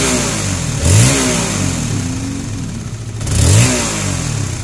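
A Honda CB150R motorcycle engine idles steadily close by, then is twice blipped to a quick rev that swells and drops back to idle, with no talking.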